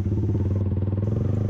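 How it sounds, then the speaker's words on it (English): A Yamaha R15 BS3 motorcycle with an SC Project full system exhaust idles loudly, a deep, fast, even throb with a slight clattering edge, close and steady throughout. "And this machine is loaded with a full system exhaust of SC Project. It's too loud."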